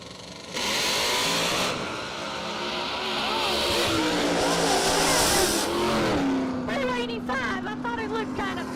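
A Camaro drag races down the strip, its loud engine rising through revs and swelling past before fading into crowd and track ambience, with an announcer talking over it.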